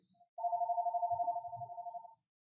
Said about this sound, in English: So phone is ringing.